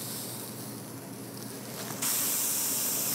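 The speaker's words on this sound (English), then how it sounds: "do a little of the canola spray" Canola oil cooking spray is sprayed onto a pan in a hiss that begins soft and then jumps to a loud, steady spray partway through, close up.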